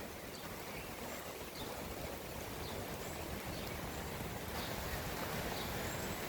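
Steady heavy rain falling on a garden during December flooding, a dense continuous hiss of drops with no talk and no pauses.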